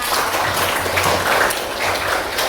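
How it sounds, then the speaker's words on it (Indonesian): A class claps together during a classroom guidance lesson, a dense, even patter of hands lasting throughout, fairly loud and close. "Sekali lagi kita tepuk tangan"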